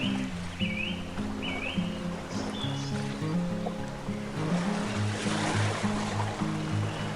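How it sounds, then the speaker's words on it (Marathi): Soft, continuous wash of sea waves breaking on the shore below Cabo de Rama fort in Goa, faint and distant, with a steady low hum underneath and an occasional high call. "खाली किनाऱ्यावर आदळणाऱ्या समुद्रांच्या लाटांचा आवाज स्पष्ट येत होता"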